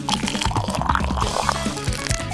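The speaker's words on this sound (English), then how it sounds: "Add some water beads and, of course, water." Water poured into a small eggshell bathtub filled with water beads, a close, continuous burbling fill with splashes and drips, heard alone.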